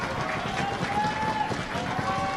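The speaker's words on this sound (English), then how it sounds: "you can hear that when she's aiming, the kids in the audience are cheering her on even" Young spectators cheering and calling out from the stands at a women's compound archery world cup final in Samsun while an archer aims, a lively crowd murmur with scattered claps and shouts under a commentator's voice.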